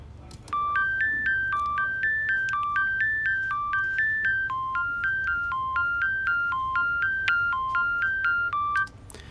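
A simple electric piano melody played dry with no sustain pedal, each short note cut off cleanly in a steady, bouncy repeating pattern. It is clear and moderately loud, with no talking.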